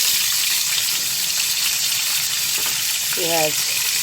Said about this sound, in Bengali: দিয়ে দিচ্ছি তেল, দিয়ে দিচ্ছি পেঁয়াজ